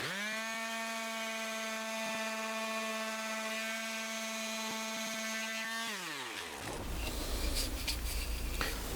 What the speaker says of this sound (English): Let me just sand that down.